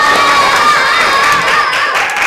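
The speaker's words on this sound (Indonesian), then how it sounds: "Tepuk tangan dulu untuk Aulia berhasil menyalakan TV-nya." Children clap and cheer in a classroom, a loud, continuous mix of high excited shouts and hand claps that lasts throughout without a pause.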